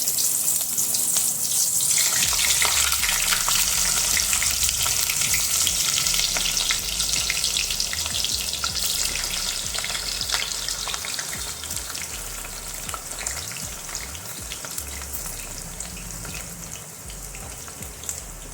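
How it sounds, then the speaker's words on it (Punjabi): Bitter gourds, stuffed and sour with raw mango, fry in hot oil with a loud, steady crackling sizzle that holds throughout and eases slightly toward the end, with no talking. "ਤੇਲ ਸਾਡਾ ਗਰਮ ਹੋ ਚੁੱਕਾ ਤੇ ਮੈਂ ਤੇਲ ਦੇ ਵਿੱਚ ਕਰੇਲਿਆਂ ਨੂੰ ਪਾ ਦਵਾਂਗੀ"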